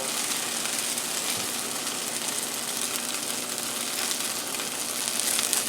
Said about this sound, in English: I just like to fold it here to make sure I'm getting all the eggs cooked